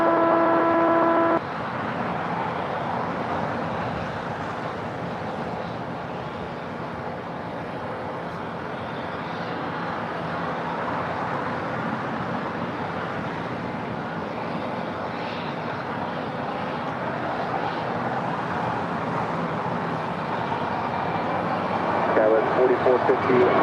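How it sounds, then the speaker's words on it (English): A JetBlue airliner takes off from LAX runway 25 right bound for JFK, a sustained jet engine roar that holds steady and grows toward the end, heard from a distance with a voice speaking over it. "And there goes JetBlue 1124 off to JFK."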